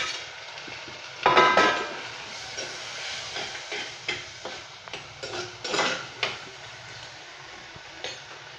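Curry leaves dropped into hot oil while frying prawns, giving a broadband crackling sizzle with a burst near the start and scattered pops and spatters after, close and moderately loud with no voices.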